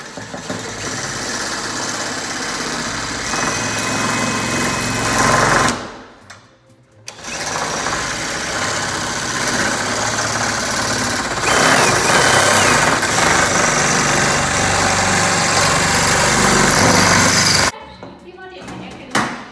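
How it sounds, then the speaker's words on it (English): Metal shears driven by a screw gun cut through sheet metal with a loud, continuous buzzing chatter that stops briefly twice, close by, and a person speaks now and then over it. "It's metal shears on a screw gun."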